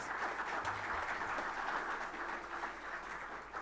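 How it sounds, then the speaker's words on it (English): Steady applause from a crowd, a dense wash of clapping that holds at an even level throughout without any voices. "Give them a generous welcome with an applause."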